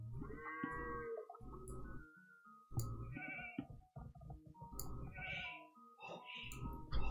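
Sheep bleating in the Age of Empires 2 video game, several repeated bleats close and clear over a busy game soundscape with no talk.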